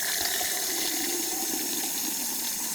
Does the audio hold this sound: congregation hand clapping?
no